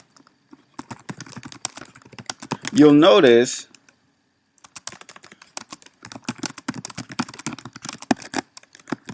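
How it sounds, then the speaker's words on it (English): Keyboard typing in Adobe Illustrator, with scattered key clicks under and between spoken explanation and a short, louder vocal burst in the middle; the clicks are light and irregular. "if we were to keep typing"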